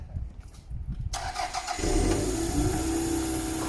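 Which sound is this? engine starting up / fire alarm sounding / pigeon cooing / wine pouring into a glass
engine starting up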